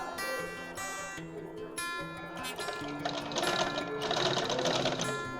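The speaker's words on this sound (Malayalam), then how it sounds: "ശ്രദ്ധിച്ച് സ്ലോയിൽ സ്റ്റിച്ച് ചെയ്താൽ മതി. ഒരു കാരണവശാലും ഇലാസ്റ്റിക്കയിലേക്ക് സ്റ്റിച്ച് പോകാൻ പാടില്ല." Sewing machine stitching a pant's elastic waistband, running slowly at first and then faster, with a steady close mechanical whir and rattle and a short pause between runs.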